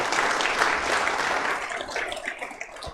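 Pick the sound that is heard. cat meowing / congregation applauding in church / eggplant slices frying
congregation applauding in church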